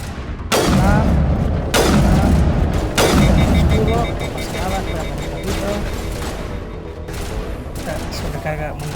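Rifle fire in the video game Mass Effect, several heavy booming shots in quick succession early on, then a busier, quieter stretch of game sounds, with someone talking over it.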